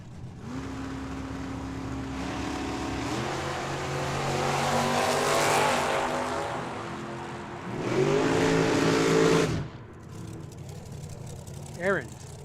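Drag racers, a G-body on the left and a Mustang on the right, launching and tearing down the strip at a dragway, loud roaring engines climbing through gear changes, then a second surge as they pass, with an announcer talking over the noise.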